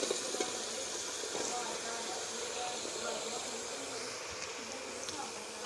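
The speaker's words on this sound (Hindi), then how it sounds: "मसाला हमारा रेडी है। इसमें डाल लेंगे अब कद्दू शरीफ।" Pumpkin drops into hot masala in a pan for a tadka-style kaddu dish, producing a steady, fairly quiet sizzling hiss that continues throughout.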